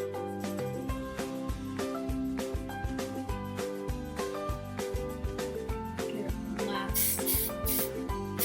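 Hairspray hisses onto curled hair in a few short, quick bursts over upbeat background music.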